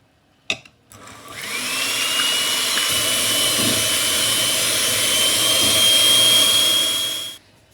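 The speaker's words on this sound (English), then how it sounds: "I'm going to whisk my egg whites until stiff peaks form" An electric whisk whirs steadily as it whisks egg whites to stiff peaks, starting after a click, running as a loud close continuous drone with a high whine for several seconds, then cutting off.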